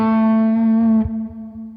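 An electric guitar run through an Amplitube Mesa Boogie amp model with reverb sustains a single distorted note, thick and buzzing, then a quick pick sound and a ringing reverb tail, alone and loud.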